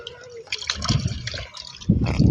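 Water pours and gurgles into a container, the sound shifting as it fills, with a brief pause before the flow picks up again.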